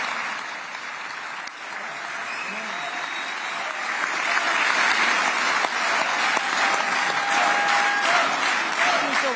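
Sustained applause and cheering from a crowd of lawmakers in the Israeli parliament after a speech by US President Donald Trump, a dense steady roar that swells louder midway and stays full to the end.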